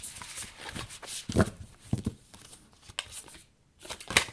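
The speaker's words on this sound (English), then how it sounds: "I goofed when I was shuffling." A deck of cards is shuffled in a few quick riffling bursts separated by short pauses, close and fairly quiet, with no one speaking.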